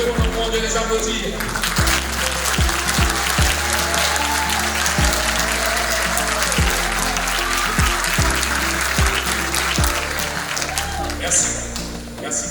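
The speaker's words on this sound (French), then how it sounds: "nous devons encore de les applaudir." Sustained, dense applause fills a hall at a diploma graduation ceremony, steady and fairly loud throughout, with a few sharper claps and a voice briefly audible.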